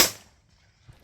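A single shotgun blast fired while pigeon shooting over decoys in a field, a sharp distant crack that decays quickly into quiet outdoor air.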